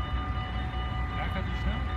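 A train rumbles past in Linne, the Netherlands, a steady low roar with a constant tonal whine running through it while people talk over it.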